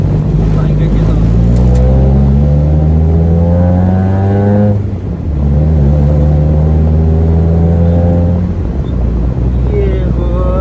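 A car with a newly installed Trust Greddy Beatmax TI muffler revs loudly and steadily up and down, the deep exhaust drone rising and falling over about ten seconds, close to the listener.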